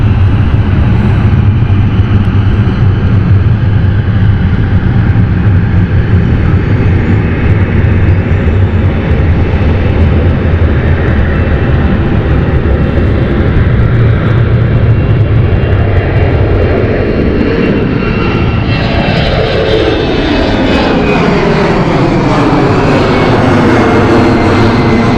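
A fixed-wing airliner on the Glasgow flight taking off from London City Airport, a loud sustained engine roar that swells and shifts in pitch as it climbs away, steady throughout with no talk.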